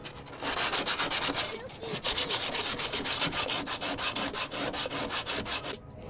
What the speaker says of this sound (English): I guess I'll just try to sand the rust off now.